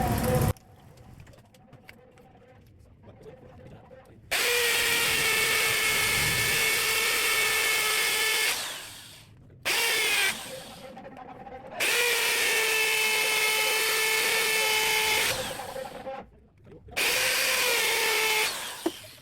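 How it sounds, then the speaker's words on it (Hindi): Angle grinder cutting the retaining pins of a China-made washing machine motor, loud close whining bursts that start and stop several times, with a quieter pause at the start. "तो ग्राइंडर से मेरा ख्याल है ये ज़्यादा बेहतर तरीका है।"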